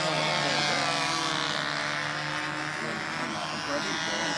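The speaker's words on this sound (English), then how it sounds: "Nobler with an APC prop." A Nobler control-line model airplane with an APC propeller flies at a contest, its small engine droning in a loud, continuous buzz with steady tone for several seconds.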